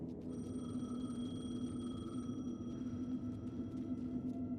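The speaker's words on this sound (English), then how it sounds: "The payphone was ringing." A payphone rings in a dark, eerie game scene in Alan Wake 2, with a steady electronic tone that holds over a low droning hum, sounding distant and muffled.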